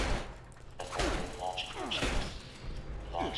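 A turret fires during a nuke launch in Fallout 76, giving a few irregular bursts of mechanical shots and thuds. A voice is heard faintly under the bursts.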